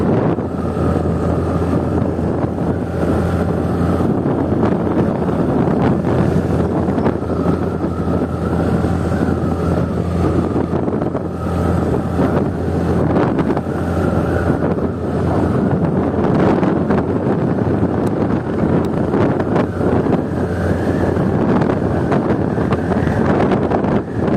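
Loud, constant wind rumbles and buffets against the microphone for the whole stretch, a dense, unbroken roar with no pauses.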